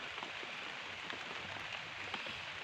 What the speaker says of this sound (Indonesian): Hujana ageung.